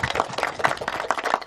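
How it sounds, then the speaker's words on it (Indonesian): Scattered hand claps from an audience at a gathering of women farmers in East Java, quiet and somewhat distant, a brief ripple of clapping. "bisa tepuk tangan untuk mereka"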